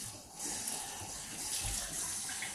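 Tap water runs steadily while wool yarn dyed with avocado skins and pits is rinsed, a continuous close splashing hiss with no speech.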